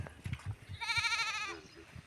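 A goat gives one clear, wavering bleat at middle distance after it has been brought to water. Faint thumps and shuffling come before the call.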